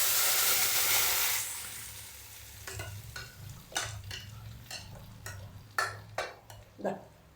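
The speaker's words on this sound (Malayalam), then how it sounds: "നമുക്ക് കറി ഇതിലേക്ക് ഒഴിച്ച് കൊടുക്കാം." Buttermilk curry poured into hot mustard seed tempering: a loud burst of hissing sizzle at first that quickly dies down, followed by scattered stirring scrapes and clinks against the pot, with no talk.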